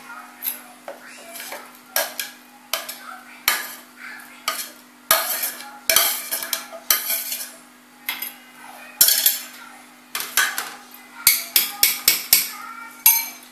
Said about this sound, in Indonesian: Kemudian saya tumbuk kembali.